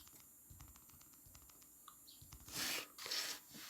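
Keys patter quietly on a computer keyboard as an email address is entered during WhatsApp account setup; the soft, irregular taps are followed by a couple of louder bursts of noise near the end, with no talking.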